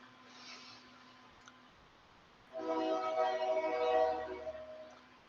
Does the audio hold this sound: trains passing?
yes